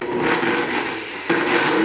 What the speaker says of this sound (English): pour all of your frozen banana slices into your blender and blend it